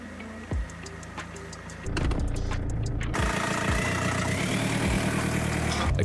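A car engine idles steadily after its catalytic converter was replaced, a low continuous hum that grows louder partway through, with a few brief knocks and clicks near the start.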